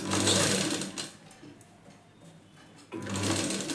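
A sewing machine stitches the front of a size 36 blouse, running in a loud close burst, easing to a quieter slow stretch, then speeding up again, with no voices.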